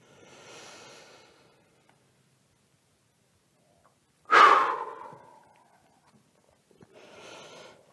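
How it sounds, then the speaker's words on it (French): Slow, deep breaths during a yoga exercise, a soft exhale, then a strong, loud inhale through the nose in the middle, followed by another quiet breath, with near silence between them. "Une dernière fois, inspire."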